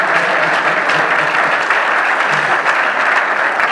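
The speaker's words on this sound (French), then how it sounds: "Est-ce qu'on peut les acclamer bien fort?" A large audience applauds loudly and steadily, a thick, unbroken roar of clapping hands that fills the whole stretch without pause.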